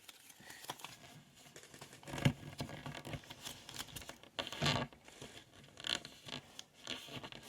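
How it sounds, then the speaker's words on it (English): Paper is creased and folded by hand while making an origami crane, producing quiet, close crinkles, soft scrapes and a few sharper rustles scattered irregularly over several seconds. "I'm just going to fold this flap here down"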